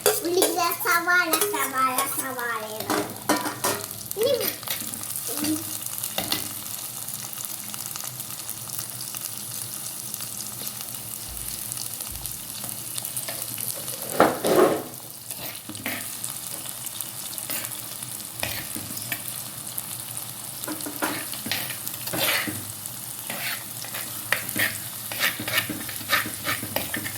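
Onions and green chillies sizzle and fry in a pan for fish curry while being stirred, with soft steady crackling and occasional scraping clatter of a utensil. A voice and other talk are heard at times.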